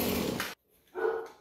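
A dog gives one short bark right after a loud burst of power-tool noise from a Husqvarna dielectric pole saw cuts off nearby.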